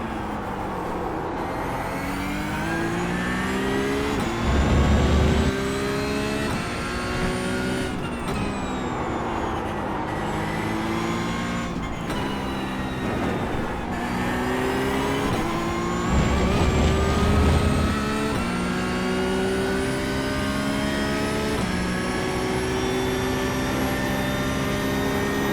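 A Porsche 992 Cup car engine howls loud and close throughout a lap of Zandvoort in the iRacing sim, its pitch climbing through the revs and dropping sharply at repeated gear shifts, with no talking.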